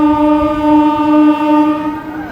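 A MEMU train departing Khammam railway station sounds a long, steady horn-like tone with stacked harmonics, loud and close, fading slightly toward the end over a low rumble.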